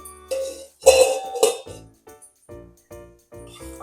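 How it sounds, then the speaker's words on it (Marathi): Metallic clanks and clinks of a lid being set on a cooking pan of peas for upma over low-medium gas, a few sharp knocks in quick succession, close by, followed by softer rattles. "गॅस लो टू मिडियम करून त्याच्यावर झाकण ठेवणार आहे"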